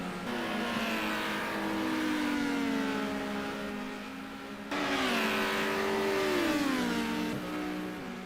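Touring race cars on the High Speed Ring in a racing video game rev hard and accelerate, their engine notes climbing in two long sustained pulls, loud and close with no voices.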